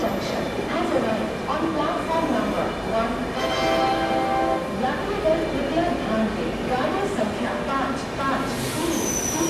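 A Mumbai Tejas Rajdhani train stands at a station platform, its steady rumble and faint wheel screeches filling the scene while someone talks over the continuous railway noise.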